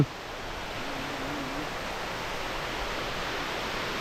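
Steady broadband rush of Phiang Din waterfall in Nong Hin district, Loei province, a constant wash of falling water heard close and alone, with no voices.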